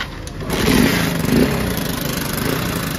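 A Honda Shine motorcycle engine idles close by after a starting problem, a steady low rumble with a slight rise in the first second and a faint high whine running throughout.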